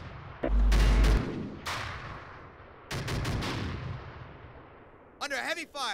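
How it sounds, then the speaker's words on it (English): Heavy gunfire in the military video game ArmA 2: loud booming bursts and rapid rattling shots in several clusters, with decaying rumbles between them and a brief garbled radio-like voice near the end. "Under heavy fire!"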